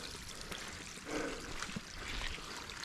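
Mountain stream running beside a steep, overgrown hiking path up Mount Pelée, giving a faint, steady trickle and gurgle of water that stays low and continuous, with no voices.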